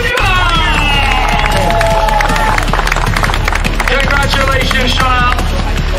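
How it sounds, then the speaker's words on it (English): A crowd at the Dubai O-Plate 2019 Grand Prix prize giving cheers, whistles and claps steadily and loudly throughout, with an announcer's voice and busy crowd noise mixed in. "Ladies and gentlemen, a big cheer, please."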